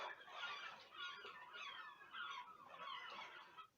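Seagull calls from a YouTube video on an iPad, a continuous run of faint squawking and crying gull calls in several bursts, thin and somewhat distant.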